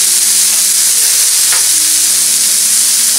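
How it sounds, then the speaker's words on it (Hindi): Onions and tomatoes for paneer bhurji sizzle loudly in a pan while a spoon stirs them, giving a continuous hiss with a brief scrape partway through and no talking. "अब हम इसमें टमाटर डालेंगे, मिक्स कर लेंगे।"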